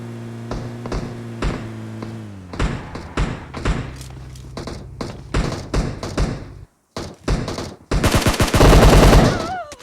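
Gunfire during a fight in PUBG Mobile, rapid bursts of automatic shots and single cracks at varying distance, ending in a loud close volley, with a brief silent gap before it.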